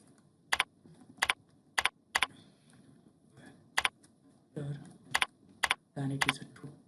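Code being typed on a computer keyboard, sharp, close key clicks in irregular single strokes and short bursts over a quiet background, with some faint low movement noise.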